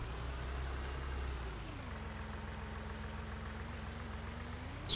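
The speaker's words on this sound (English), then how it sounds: "This tractor takes off like a scalded cat." Tractor engine in the Farming Simulator 19 video game runs steadily with a low droning hum that dips in pitch after a couple of seconds and then holds even, loud and continuous with no talk over it.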